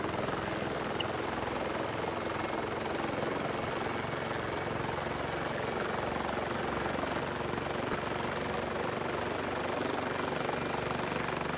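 Steady helicopter rotor and engine drone from the video game BRM5, a continuous broadband whir holding at an even level throughout with no talk over it.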